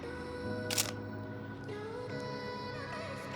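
A Sony A7IV mirrorless camera fires its shutter once, a sharp mechanical click that stands out near the mic over a steady low background hum during an off-camera flash portrait shoot with high-speed sync.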